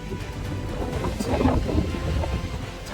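A waterfall roars, heard from the top near its edge. The rumbling wash of falling water is close and constant, a dense broadband roar with slight swells and no talk.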